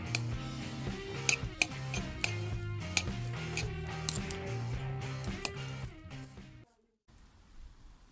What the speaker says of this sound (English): Take a couple of forks and just start shredding away.